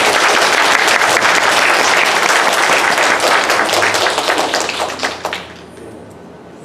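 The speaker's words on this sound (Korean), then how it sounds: "박수라도 칩시다. 박수." A church congregation claps together during a Sunday worship service, loud dense applause filling the room for about five seconds before fading out to near silence.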